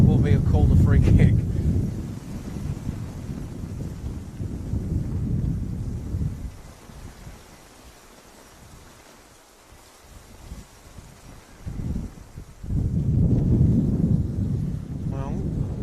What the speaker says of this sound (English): it's raining sideways